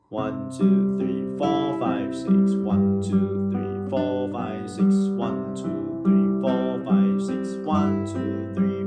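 Fingerstyle acoustic guitar plucking a flowing arpeggiated pattern through the first four bars of a beginner song, bright and close, with a voice counting steadily along over the notes.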